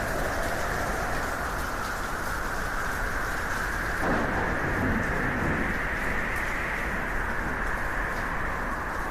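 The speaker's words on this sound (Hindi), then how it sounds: "कड़कती बिजली की आवाज से" Heavy, steady rain pours down without a break under a low rumble of thunder, with a brief louder swell around the middle as the storm crackles nearby.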